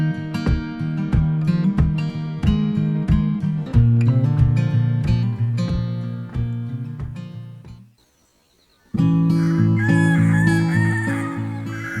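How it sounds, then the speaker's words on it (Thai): A rooster crows in the morning amid loud, rhythmic background music, the crow rising near the end after a brief pause in the music, in a mountain village at Doi Luang Chiang Dao, Thailand. "ไก่ขันยามเช้า เสียงบ่งบอกให้เราลืมตาตื่น"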